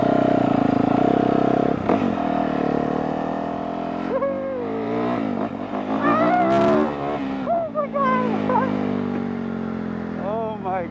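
A Yamaha YZ450F dirt bike is ridden on its first outing, its engine droning steadily and then revving in rising and falling pitch sweeps, fairly close, with a voice talking over parts of it.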